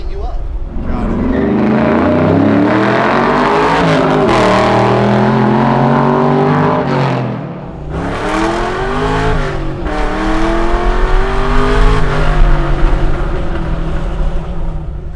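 A 600 hp custom Chevy C10 pro-touring truck revs its exhaust hard, rising and falling in loud surges with a brief dip midway, and people talk over the roar.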